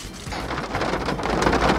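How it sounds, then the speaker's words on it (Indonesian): Steady rain pours down during a stop at a McDonald's, a dense, close hiss of falling water with a low rumble underneath, lasting without pause and without talking. "Hujan lagi."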